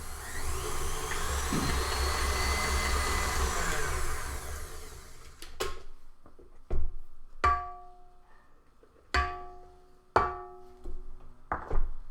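An electric whisk whirs steadily for about five seconds, mixing icing sugar into butterbeer cupcake frosting, then stops; several sharp knocks and taps against the bowl follow.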